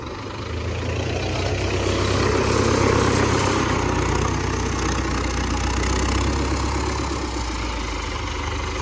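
An MTZ tractor engine drones steadily and loudly at close range while the tractor levels a road. The low, continuous running swells slightly in the middle and carries on without any speech.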